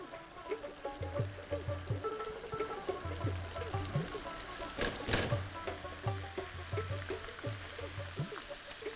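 Masala roasting in a pan for aloo gobhi, a soft continuous sizzle and crackle with periodic scraping stirs, one sharper burst midway, and no talk over it.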